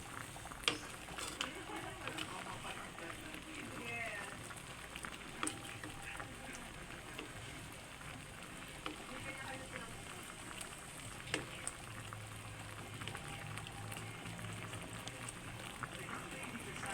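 Mixed vegetables sauté in a cooking pot with a steady, soft sizzling crackle and occasional sharper pops, continuing throughout at close range under quiet household background.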